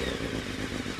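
A BMW K1200S motorcycle engine runs steadily up close, its rough mechanical roar loud and continuous through a brief moment.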